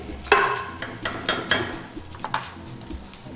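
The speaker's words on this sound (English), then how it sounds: "it'll give you one quick splash, and then you'll get that initial burst of sizzle" Whole canned plum tomatoes go into a hot pan with a quick splash and burst of sizzle, followed by scattered clanks and stirring sounds of a utensil against the pan.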